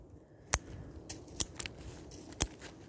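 Pruning shears clipping dormant scion wood, three sharp close snaps spaced apart with quieter rustling of the stems between them.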